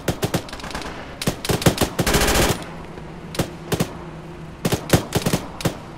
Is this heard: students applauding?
no